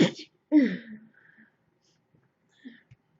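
A single sharp sneeze bursts out close to the microphone, followed by a short breathy exhale and faint sniffing in near silence.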